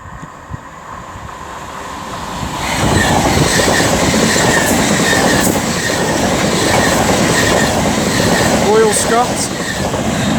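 Avanti West Coast Class 390 electric train running through Liverpool South Parkway station on the West Coast Main Line, a loud rising rumble and roar of wheels with a brief squeal near the end.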